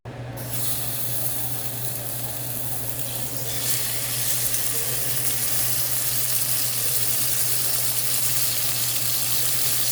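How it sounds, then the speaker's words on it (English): Beef sears in a hot pan for yellow curry, a loud, continuous sizzle and crackle that flares at the start and holds steady throughout with no talking. "Searing up the meat first before putting it into the curry broth"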